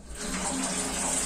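Tap water pours into a bathtub in a steamy bathroom, a steady close rushing hiss for just over a second, loud and unbroken, with no one talking.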